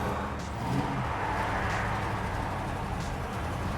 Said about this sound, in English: A lot of traffic on Marina Mile today.